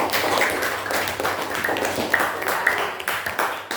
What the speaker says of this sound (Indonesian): silakan beri tepuk tangan untuk kelompok penyaji